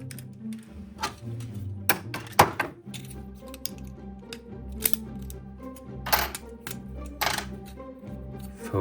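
Plastic parts of a ZetaToys ZB-04 Catapult toy figure are folded together with scattered sharp clicks and snaps, a few louder ones standing out over quiet handling.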